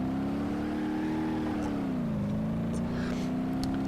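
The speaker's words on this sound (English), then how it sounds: "That inner tire spinning up as the power tries to get to the ground" A Satsuma 210 in the BeamNG.drive game strains through a corner in a tough car challenge, its engine droning steadily, dipping briefly then climbing again as the inner tire spins up under power.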